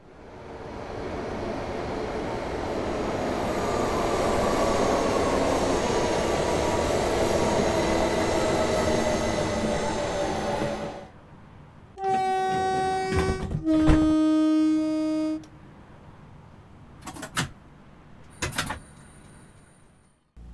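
Southeastern high-speed train in Train Sim World 3: a long, steady rumble of traction motors and rolling wheels, then a cut to a quieter scene with tonal electronic beeps and clunks.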